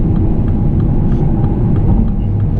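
A Mini Cooper S E Countryman plug-in hybrid accelerates in sport mode, giving a loud, steady, low rumble heard from inside the cabin with no talking.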